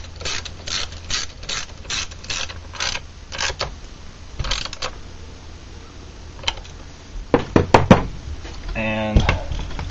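A 7/16 bolt is threaded back into a Craftsman 2.1 chainsaw part with a hand tool, giving a series of light knocks and clicking ratchet sounds that grow into a louder cluster of clanks near the end, under intermittent low background noise.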